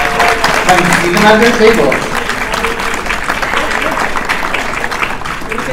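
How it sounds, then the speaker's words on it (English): An audience at a ConnectiCon convention panel on Fire Emblem Engage bursts into sustained, steady applause that fills the room, with a voice speaking over the clapping at the start. "give everybody a round of applause"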